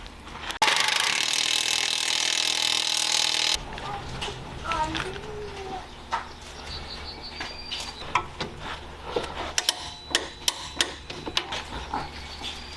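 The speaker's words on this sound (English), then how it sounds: "We're going to tighten this up and torque it to 60 foot-pounds" A bolt is tightened and torqued during a Rough Country lift install on a Jeep Cherokee KL, opening with a loud buzzing power tool burst, then a run of ratchet clicks and metallic taps at close range.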